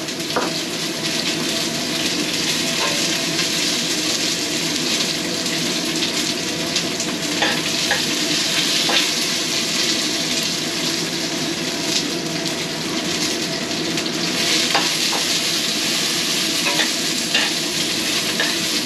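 Garlic and onion sauté together in a hot pan, a loud, dense sizzle running steadily with occasional scrape and tap of a utensil, close up, no one speaking.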